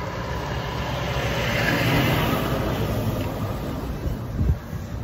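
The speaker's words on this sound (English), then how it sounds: "I'm just about to have a lorry come past me, so you have to excuse the noise for a sec." A lorry passes on a road in a broad, steady roar that swells to a peak midway and fades again, heard from close by at the roadside with no talk over it.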